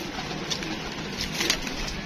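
Soft cooing from a pair of slate-grey pigeons murmurs through steady outdoor background noise, with faint fluttering near the end.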